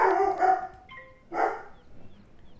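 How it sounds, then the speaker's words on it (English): A dog indoors gives two or three sharp, close barks followed by a softer whine, with brief quiet gaps between. "Stop barking."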